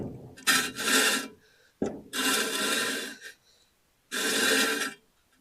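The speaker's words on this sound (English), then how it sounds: "I think that noise is more the shield rubbing than anything else." Brake dust shield scraping against the drum on a 1950 Chevy truck's Bendix-style brake as the wheel turns, a raspy rubbing sound heard in three longer passes with short gaps, close and fairly quiet, with no talking.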